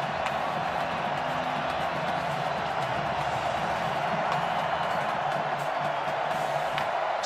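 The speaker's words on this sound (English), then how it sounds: "Now the crowd's going to get into it at Razorback Stadium right here." A large college football crowd at Razorback Stadium during the 2016 Florida at Arkansas game sends up a steady, distant roar that holds at an even level throughout, with a faint voice occasionally underneath.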